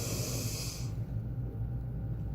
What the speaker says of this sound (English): take a deep breath through your nose